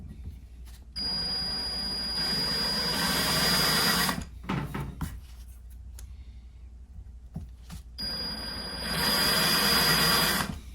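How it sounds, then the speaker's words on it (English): A power drill runs in two long bursts, a loud whining drone as it bores through material, separated by a few seconds of quieter handling noise. "I was drilling those out"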